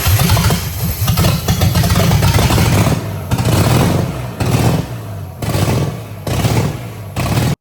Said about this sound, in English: This old bad hot rod runs